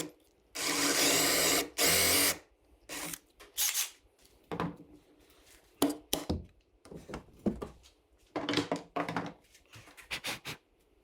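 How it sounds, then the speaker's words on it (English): A drill whines in two loud bursts, followed by a series of shorter grinding bursts and pauses as a 7/8-inch Forstner bit bites into wood. "I'm going to be using a 7/8 Forstner bit"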